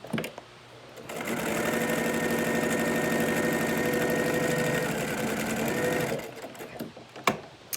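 A sewing machine stitches a fabric mask in one continuous run of about five seconds, a close steady whirring hum with rapid needle clatter, framed by quieter clicks and handling of the fabric before and after.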